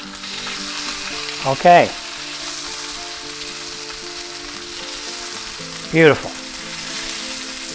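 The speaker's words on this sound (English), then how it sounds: "they're done searing, so let's just shut off our burner" Chicken breasts sear in a hot frying pan, a steady sizzle filling the scene from start to finish while a person speaks two brief words.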